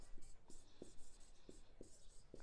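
Pen or chalk writing by hand during a Hindi-medium class 10 maths lesson, heard as a handful of faint, separate scratchy strokes spaced irregularly over a quiet room, with no one speaking.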